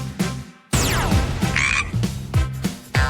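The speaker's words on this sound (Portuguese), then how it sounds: "E o sapo coacha." Frog croaking in loud, close, repeated bursts, each a rough rattling call that sweeps downward, with brief gaps between calls and no voices.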